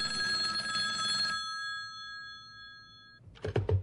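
A telephone rings with a bright, steady electronic bell tone lasting over a second, followed by a lingering hum. After a pause a voice answers, as in a local festival broadcast from Valencia.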